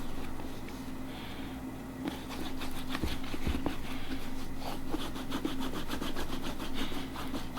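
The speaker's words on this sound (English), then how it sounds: "with my hand rubbing like that just gives like a little bit of heat, a little bit of friction" A hand rubbing mink oil into an oxblood leather Red Wing Iron Ranger boot, giving a steady, soft, close-up swishing friction with a faint rhythmic scrubbing texture throughout, no talking.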